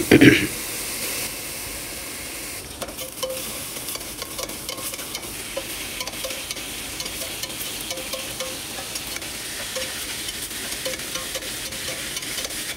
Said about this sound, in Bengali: সামান্য সূর্যমুখী তেল দিতেছি। এখন পেঁয়াজ দিতেছি, কাটা কাটা পেঁয়াজ দিতেছি